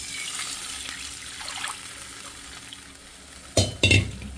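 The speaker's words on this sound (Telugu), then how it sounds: "ఇప్పుడు అదే బాండీలో మనం పాకం వేసేసుకుందాము." Hot oil hisses softly in a pan left from frying bread, then sugar syrup hits the hot pan in two sharp, loud bursts of sizzle near the end. No voices are heard.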